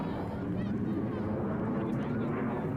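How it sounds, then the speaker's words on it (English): A jet aircraft passes over a regional training center near a field hockey game, producing a steady, loud low roar that fills the whole stretch without a break. "That right there is the Sounds of Freedom, the jet overflying the Regional Training Center here."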